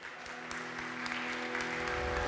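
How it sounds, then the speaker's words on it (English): Audience applause at a climate change summit as a guest, an eco-entrepreneur and regenerative designer, is welcomed: steady dense clapping from a large crowd, building slightly louder toward the end. "Please applaud him"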